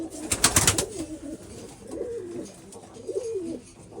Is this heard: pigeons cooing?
yes